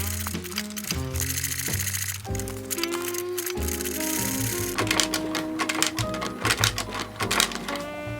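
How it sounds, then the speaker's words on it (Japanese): Sewing machine stitching the lining and tongue of a handmade cordovan leather shoe upper: close, rapid mechanical clatter in several bursts with brief pauses between them. "ライニングとベロを縫います。"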